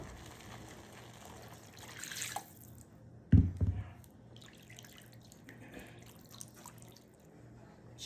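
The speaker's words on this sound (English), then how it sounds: "Add 2 cups of water." Water poured into a pot for chicken pot pie filling over sautéed onions, butter and flour: faint kitchen sounds, then a short splashing gush near the middle, followed by quieter trickling and drips.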